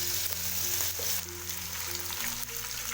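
Chicken pieces fry in a pan for Chinese biryani with a steady, close sizzle and occasional stirring, over a low, constant hum, with no voices.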